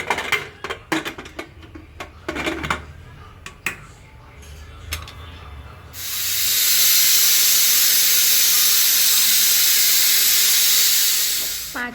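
A pressure cooker cooking tikha bhaat, some scattered clatter and knocks of pot handling, then a loud, steady, close hiss of escaping steam that runs on for several seconds.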